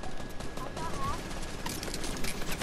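Rapid gunfire from a video game crackles steadily throughout, a busy spray of shots under excited players' voices talking over it.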